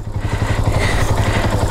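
Motorcycle engine labouring up a steep slope, a close, loud, rapid throbbing chug with an even pulsing rhythm throughout the short burst.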